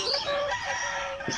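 A Modern Game Bantam rooster crows close by, one continuous call with a rising, strained tone that holds steady before breaking off near the end.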